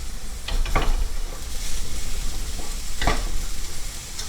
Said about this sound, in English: cooking onions.